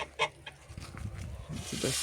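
Geese honk and cluck in short bursts, close by, over a steady rustling background with a few scattered calls.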